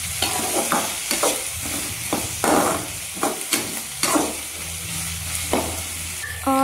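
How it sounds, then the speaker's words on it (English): Gravy ingredients with a pinch of salt are stirred in a pan over a soft sizzle, with repeated scraping strokes at an irregular rhythm, close and clear, no voices. "Just I'm stirring it occasionally."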